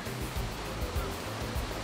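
Ocean waves, 8 to 10 feet high, roll and break on Urbiztondo Beach, La Union, Philippines, in a continuous surging wash, with low rhythmic thumps as each wave crashes.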